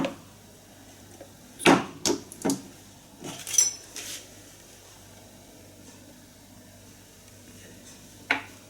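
A few short clicks and clinks, like a bottle cap being twisted off, in a quiet room with a later single tap.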